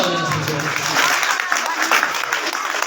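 Audience clapping steadily at a school prize ceremony for an academic results day, dense and continuous applause filling the room.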